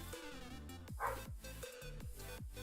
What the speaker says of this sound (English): Dog, shut up. I have no idea what you're half barking at.